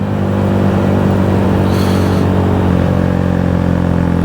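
A 2018 Honda Grom motorcycle engine drones steadily while being ridden, loud and close with a constant low hum and no talking over it.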